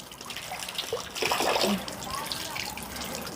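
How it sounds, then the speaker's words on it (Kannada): Hot water running from an instant geyser tap in a bathroom, a steady soft splashing flow that swells briefly in the middle, fairly quiet throughout. "ಬಿಸಿ ನೀರು ಬರ್ತಾಯಿದೆ ಇನ್ಸ್ಟೆಂಟ್ ಗೀಸರ್ ಹತ್ತು ಸೆಕೆಂಡ್ಗೆ ಬಿಸಿನೀರು"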